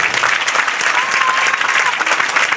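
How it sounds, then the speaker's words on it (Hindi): Loud, dense applause from a large audience at a seminar gathering, continuous and close throughout. "एक जोरदार ताली होनी चाहिए,"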